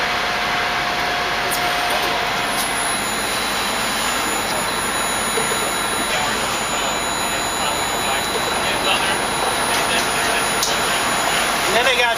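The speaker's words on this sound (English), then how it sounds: "when we turn this on, it also operates the flow of LP into the actual pump" A propane LP pump runs at a filling station, giving a steady, loud, broadband mechanical roar that holds unchanged for the whole stretch with no pauses.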